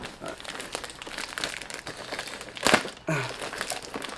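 A knife cuts open the plastic and cardboard packaging of a Splatrball gun, producing close crinkling, crackling and tearing with a sharp rip partway through.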